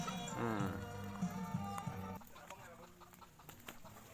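Bantam chickens cluck and chatter softly outdoors in a coconut grove over a tonal musical background that fades out partway through, leaving scattered clucks.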